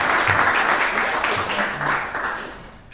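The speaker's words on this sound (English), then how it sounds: "let's give them a round of applause" A Rotary Club meeting room applauds members' birthdays and membership anniversaries, a dense burst of clapping from a modest crowd that holds steady and then tapers off near the end.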